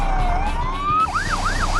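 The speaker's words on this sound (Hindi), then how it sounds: "सायरन की आवाज सन्नाटे को चीर रही है" A police emergency vehicle siren blares close and loud, its long rising wail switching into a rapid up-and-down yelp over a low rumbling engine.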